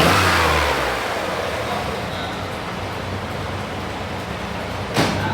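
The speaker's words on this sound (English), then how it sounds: "I have a huge exhaust leak between the head and the exhaust tube" A car engine revs with a huge exhaust leak between the head and the exhaust tube, a rough, hissy roar that is loud at first and then holds at a steady noisy drone, ending with a brief bump.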